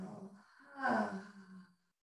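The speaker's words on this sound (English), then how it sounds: "Deep breath in with a pause at the top. And then exhale." A slow, deep breath is drawn in and then released in a long, audible exhale during a calm yoga session, close and soft, with the sound trailing into silence.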